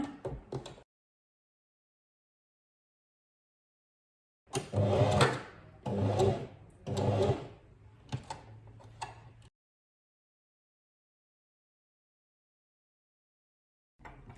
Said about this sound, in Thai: แล้วก็นำไปเย็บมุมทั้งสองด้านเลยค่ะ